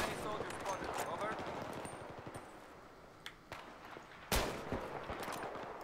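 Gunfire in the shooter game Battlefield 3, using an M98B sniper rifle and MP412 REX revolver: repeated rapid shots and distant battle noise, with one loud sharp blast near the end over an ambient background.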